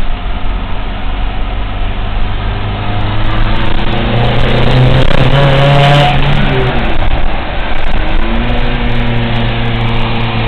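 A car engine revs around 3,500 rpm in second gear, a loud in-cabin drone with a pitch that climbs and falls midway before settling into a steady hum.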